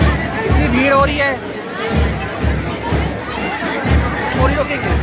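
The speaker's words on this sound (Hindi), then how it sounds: "इतनी भीड़ हो रही है।" Dense crowd chatter fills a crowded annual event at a Montessori school in the city, with many overlapping voices, occasional shouts and a steady, loud babble close by.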